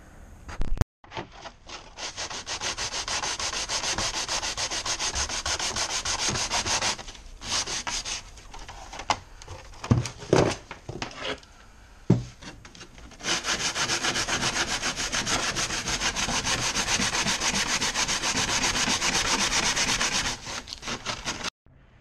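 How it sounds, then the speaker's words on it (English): A sanding block rasps steadily along the edges of a custom Varis-style vent insert for an MR2 Spyder, close and loud, in long even strokes with a few short pauses and bumps before a sustained run. "Now I just have to go use a sand block and sand all these edges straight."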